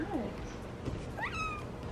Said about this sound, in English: We got the kitty.